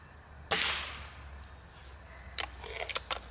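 Gamo Whisper air rifle plinking: one sharp, loud crack, then a quieter run of small clicks and ticks as the gun is handled and targets are hit.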